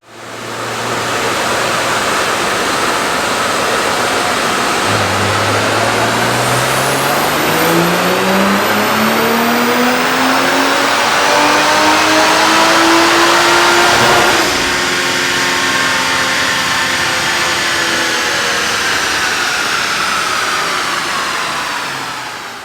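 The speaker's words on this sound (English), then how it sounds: "I am so glad we were finally able to figure out how to dyno test the Mark V Toyota Supra" A Mark V Toyota GR Supra, a stock car, revs hard on a dyno: a loud, continuous engine pull rising steadily in pitch through the gears over about twenty seconds, then easing off, with no talking.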